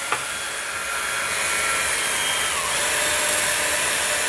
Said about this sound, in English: So put your drill in and start